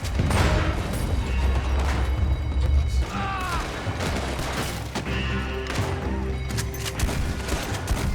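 Dense gunfire and explosive bursts fill a loud, busy Red Dead Redemption 2 soundscape, with shouted voices mixed in.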